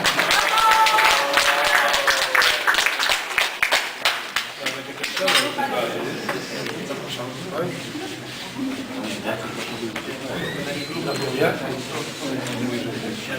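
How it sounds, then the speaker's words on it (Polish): A room of people applauds the winners at a municipal checkers championship in Trąbki Wielkie, a dense burst of clapping that fades after a few seconds while an announcer keeps talking. "Prosimy o brawa dla najlepszych."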